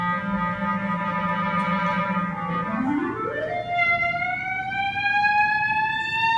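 A solo clarinet plays the Rhapsody in Blue glissando from G up to C: a low note held steady, then a smooth rising slide to a higher sustained tone, close and clear with no other sounds.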